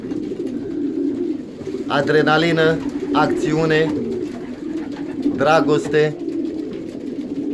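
Pigeons in a loft of flying birds cooing in several throaty rolling bursts, close and fairly loud, heard under someone speaking.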